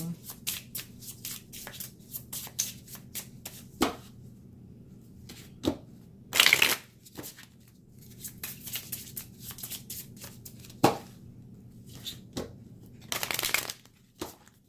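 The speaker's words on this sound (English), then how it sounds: "okay, one more shuffle, angels." Tarot cards are handled and shuffled up close, with scattered clicks and taps and two short riffle bursts amid quiet pauses.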